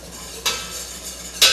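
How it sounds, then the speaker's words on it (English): A whisk scrapes briskly through butter and flour in a pan, two sharp strokes standing out over a low, steady sizzle, close and fairly loud, with no talking. "So we're going to whisk that, make sure that the butter and the flour incorporate with each other"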